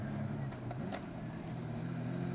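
A Lamborghini Countach 25th Anniversary classic idles and pulls away, its steady low engine drone filling the cabin at constant, moderate loudness with a slight rise in pitch as it sets off.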